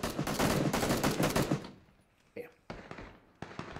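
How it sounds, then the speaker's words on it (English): Gunfire in the PC battle royale game PUBG. A loud, rapid burst of automatic shots comes first, then a few sharp single shots ring out farther apart in a quieter stretch. "We're getting shot at from behind too still."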